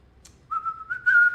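A person whistles a single sustained, slightly rising tone while waiting, close and clear, preceded by a brief soft click.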